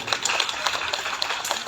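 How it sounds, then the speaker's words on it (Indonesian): An audience at a school class-meeting quiz event at an Islamic boarding school applauds, with dense, steady clapping from many hands throughout, moderately loud and fairly close. "Sekali lagi tepuk tangan yang meriah untuk regu B."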